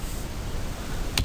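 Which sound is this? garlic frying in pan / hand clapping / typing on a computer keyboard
typing on a computer keyboard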